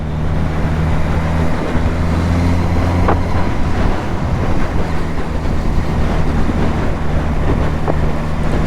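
A 2023 Suzuki GSX-S1000 motorcycle with its stock exhaust drones steadily while riding, its engine hum running under heavy wind buffeting the microphone.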